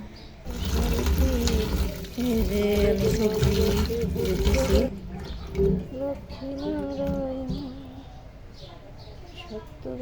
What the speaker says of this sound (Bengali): সবজিগুলো ধুয়ে নিচ্ছি